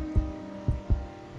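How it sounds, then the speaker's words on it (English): A heartbeat effect in GTA 5 Online, three low, muffled thumps spaced unevenly over a steady hum, close and moderately loud. "I feel my heart beat."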